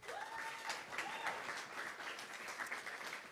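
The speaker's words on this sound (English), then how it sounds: "Please give him a big round of applause." At the ETHGlobal Tokyo opening ceremony, an audience gives Miguel from WorldCoin a round of applause. The clapping is soft and sustained, with a faint thin tone running through it.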